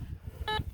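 A metal detector gives a single short electronic beep on a hit while sweeping mine tailings, faint and brief against quiet background rumble.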